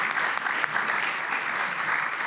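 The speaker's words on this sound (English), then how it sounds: "A round of applause to our fantastic speakers." An audience at a security forum applauds its speakers, a dense, steady patter of many hands clapping throughout without a break, moderately loud in a large hall.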